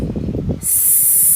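A voice makes a long, loud hissing "sss" that imitates a snake for the letter S sound, coming right after a brief spoken phrase and held steadily to the end.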